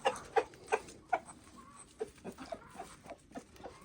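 Backyard chickens cluck in a string of short, sharp calls, loud at first and then quicker and softer, with faint rustling in between and no voices.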